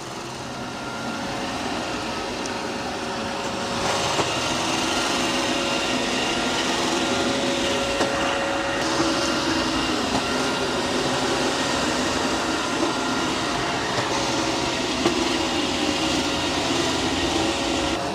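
A eufy robot vacuum and mop combo runs steadily on two passes indoors, giving a continuous whirring drone with a faint tonal whine and no talk.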